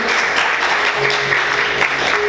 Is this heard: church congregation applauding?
yes